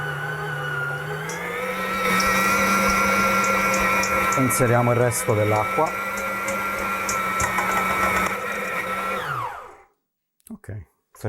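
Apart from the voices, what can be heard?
planetary stand mixer kneading pizza dough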